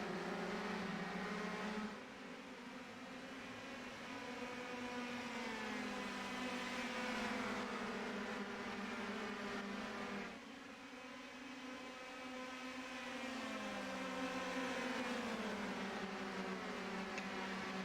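Race cars in a video game racing league lap the Belgian Grand Prix circuit, several engines droning together in a steady, faint, layered whine as the pack follows closely, pitch sliding gently up and down without pause.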